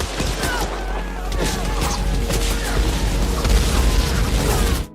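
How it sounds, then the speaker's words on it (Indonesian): War-film battle din of gunfire and artillery explosions, dense overlapping bursts, pops and booming blasts packed close together and loud for the whole stretch, with no let-up. "mereka mulai dihujani peluru dan ledakan artileri oleh Jepang"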